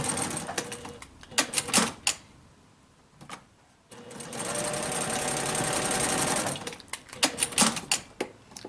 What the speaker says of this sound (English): I'm going to start up at the long raw edge and stitch all the way down and then back again.